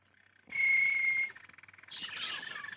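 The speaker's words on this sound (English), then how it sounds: "I want a nice singing canary." A canary sings in a bird shop: a bright, sustained trill bursts in loudly, then breaks into rapid chirps and warbling, with no one speaking.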